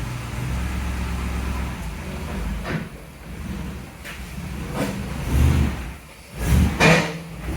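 A 1965 Thunderbird resto-mod fitted with a 500 cubic inch Cadillac engine, running with a steady low rumble, then revved in a couple of loud surges near the end.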